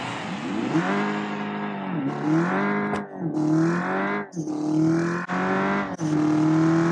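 Simulated car engine in a drag race in the game Automation, recreating a Dodge Charger: loud droning revs climb through repeated upshifts with brief dips between gears, close and continuous.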